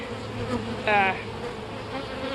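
Honey bees buzz inside a large, crowded hive, a soft steady drone with a brief louder buzz as one passes close.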